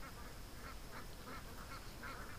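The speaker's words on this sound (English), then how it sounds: "Look at the ducks going crazy out there." Ducks quacking out on a creek, a faint, repeated nasal quacking from a distance under steady rushing background noise.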